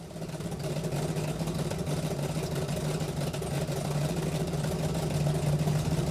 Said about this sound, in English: I want you to hear that cam.